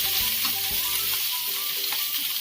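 Bell peppers sautéing in a pan with tomatoes and cumin, giving a strong continuous sizzle. A few soft knocks and scrapes from stirring are heard near the start.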